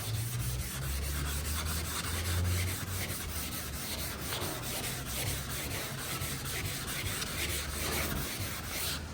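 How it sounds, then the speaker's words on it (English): Car primer is wet block sanded with sandpaper: a steady, close rasping rub with quick back-and-forth strokes that continues for several seconds, with no talk. "Wet your sandpaper again, and then block this way now."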